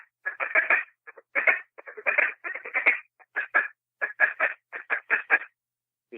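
Duck call blown in a relaxed feeding chuckle, a steady series of short ticking clucks grouped in quick runs with brief pauses, close and clear.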